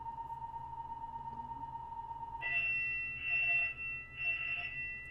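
A fire alarm sounds in a room during a podcast recording, a steady tone at first, then three loud pulsing beeps close by with no talk over it.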